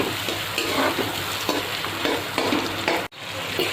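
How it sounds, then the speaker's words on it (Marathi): Lengthwise-sliced onions sizzling steadily in a generous amount of hot oil for chicken biryani, a continuous close frying hiss with occasional stirring scrapes and a brief dropout near the end. "2-3 कांदे चिरून घेतले, असे उभे चिरून घेतले, ते फ्राय करून घ्यायचे"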